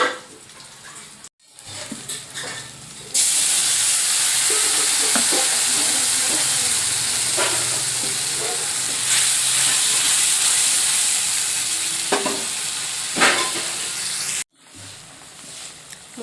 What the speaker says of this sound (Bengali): মশলা খুব ভালোভাবে কষিয়ে নেব।